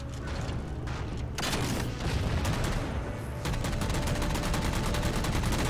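Rapid automatic gunfire in Halo 4, with fast, dense bursts of shots rattling continuously over a loud battle rumble, close and sustained, with a brief pause before the firing resumes.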